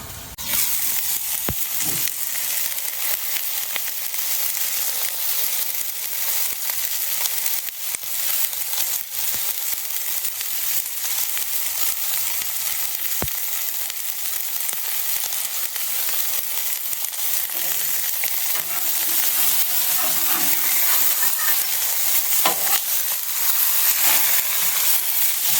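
St. Louis ribs sizzle on a Blackstone griddle with a constant loud, hissing fry and scattered pops and crackles, steady from start to finish with no voices.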